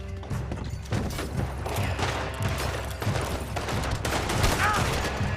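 Rapid overlapping gunfire from a chaotic shootout in Red Dead Redemption 2, a clash between feuding families in Chapter 3, crackling steadily throughout with voices calling out over the fighting.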